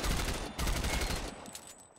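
Automatic rifle fire from Tom Clancy's Ghost Recon Phantoms rattles in a dense, rapid burst that breaks off briefly and resumes before tailing away.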